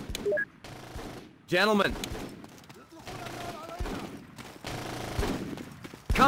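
Gunfire rings out in the Full Spectrum Warrior urban combat game as a fire team's grenadier comes under attack, with scattered shots and bursts mixed with game effects, while a voice speaks briefly over the action.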